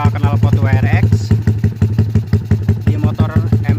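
A Yamaha MX motorcycle bored up to 155cc and fitted with an aftermarket WRX exhaust idles with a steady, loud, rapid thumping pulse, up close, while someone talks over it.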